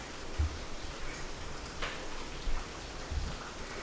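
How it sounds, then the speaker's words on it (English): Steady rain falling outside, heard indoors as a soft continuous hiss with scattered faint taps and a few low thumps, fairly quiet and even throughout. "Oh, it's really raining outside. I bet you can hear it."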